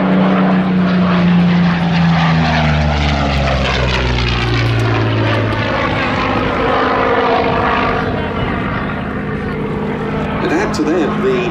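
Curtiss P-40C Warhawk fighter engine at the Duxford Battle of Britain Airshow, a loud sustained propeller drone whose pitch falls as the plane passes, with a faint voice underneath.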